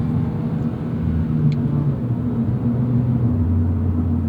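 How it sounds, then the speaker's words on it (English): A Toyota GR86 engine in the cabin, a steady low droning rumble whose pitch shifts downward as the automatic transmission drops a gear, continuous and fairly loud. "Like that, see? Automatic downshift."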